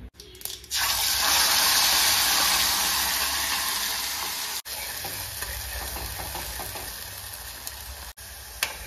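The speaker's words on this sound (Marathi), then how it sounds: "तर याला थोडं तेल सुटेपर्यंत आपल्याला परतून घ्यायचे" Spice paste for tadka, made with mustard seeds, being sautéed in hot oil in a pan: a loud hiss bursts up as it hits the oil, then settles into a steady close sizzle with faint stirring, no talk.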